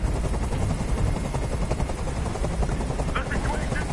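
A helicopter's rotor thumps and roars continuously and loud, with a voice talking over it, in the video game Detroit: Become Human.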